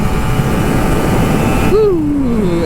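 An old Kawasaki Ninja RR 150 motorcycle on a morning ride to work in Jakarta gives a steady loud engine drone, then a rev whose pitch swoops up and slides back down.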